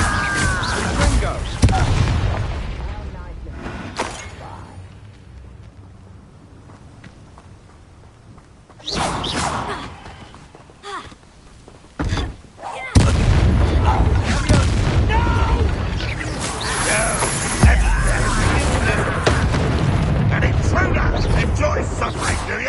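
A fire spell is cast in a video game amid combat, bursting out as loud, booming blasts with crackling mechanical clatter, with a quieter stretch before the blasts return and carry on through the end.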